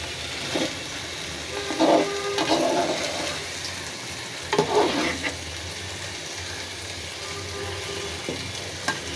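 Bain fish curry with coriander leaves being stirred in a pan, a bubbling sizzle broken by a few louder scraping bursts of the spatula, with no talk.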